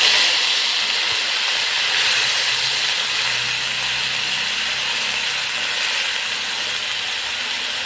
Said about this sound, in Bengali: মাছ ভাজা তেলের উপরে পেঁয়াজ বাটা দিয়ে দিলাম।